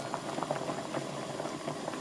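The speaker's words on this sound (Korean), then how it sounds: "이렇게 바글바글 끓이면 지금 떡 쪽이 싹 뜨지요?" Tteokguk, a rice cake soup, bubbling vigorously in a pot, with a close, steady rolling boil and dense popping bubbles and no voices.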